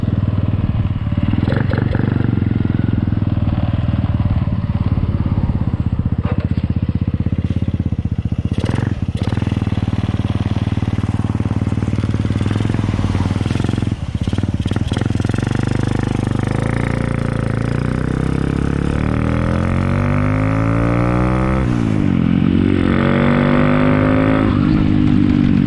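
Honda Wave 100 motorcycle fitted with a 53mm block, 6.8 cams and headworks, idling loud and close with repeated rising revs, the pitch sweeping up and down toward the end, with a faint voice in the background.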